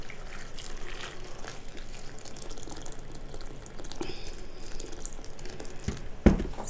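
Boiling water pours over soaked garlic in a pot for quick pickled garlic, a steady close splashing trickle with a soft clunk near the end, heard without talk.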